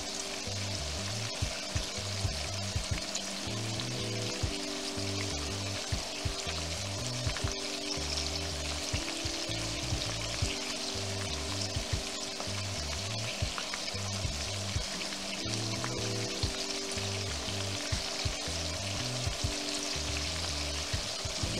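Shrimp fry with garlic in oil for Spanish garlic shrimp, a steady dense sizzle running throughout with a low rhythmic pulsing underneath, close and continuous with no talking.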